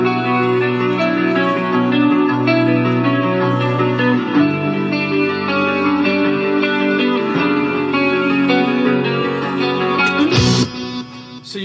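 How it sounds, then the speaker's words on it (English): A clean, bell-like electric guitar rings out in a rock song, playing sustained, pristine chords and arpeggiated notes steadily for about ten seconds before a sharp noisy burst near the end. "a very classic clean guitar tone"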